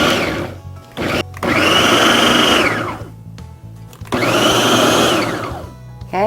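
A food processor pulses dehydrated onion pieces into mince, two loud whirring bursts of about two seconds each, rising and falling, separated by brief quiet gaps.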